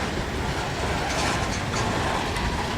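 Norfolk Southern manifest freight train led by a trio of Dash 9 locomotives rolling slowly on double track at Cramerton, heard as a steady broadband rumble with faint rail clatter and no talk.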